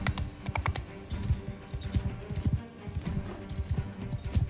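Rapid hoofbeats from a horse galloping in the Bannerlord video game, with a Roman Empire mod, fill the clip with a steady driving rhythm of thuds, close and fairly loud, over busy battle ambience and clatter.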